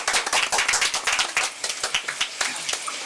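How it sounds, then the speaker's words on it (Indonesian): Podcast guests clap their hands in a quick, uneven burst of sharp claps from a small group. The claps sit close and loud, and they carry on steadily for a few seconds without any talking. "Tepuk tangan."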